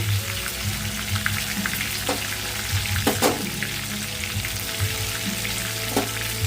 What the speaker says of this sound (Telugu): ఈ మొత్తం అనేది బాగా ఫ్రై అవ్వాలి